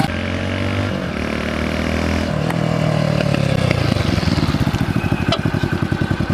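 A Hero Splendor motorcycle engine with an added disc brake runs steadily up close, then drops to a slower, pulsing idle as the bike slows to a stop.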